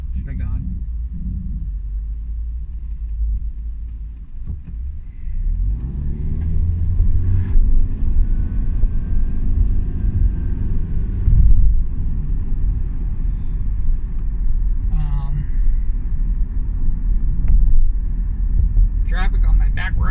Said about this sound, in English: Wow, what's all this traffic?